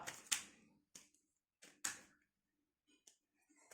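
A deck of tarot cards is shuffled in short bursts, crisp riffling snaps and slaps separated by brief silences, close and clear with no speech.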